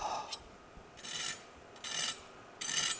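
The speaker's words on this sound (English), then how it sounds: "That is the sound of crispy goodness" A crispy fried potato rösti, just flipped in the pan, gives off three or four dry, raspy scraping taps, close and quiet, with brief pauses between them.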